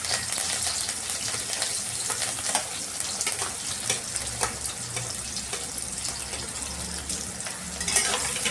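Finely chopped onion frying in a pan after black pepper has been toasted, for a coconut chicken curry, giving a continuous dense hiss and crackle with occasional stirring scrapes and no voices.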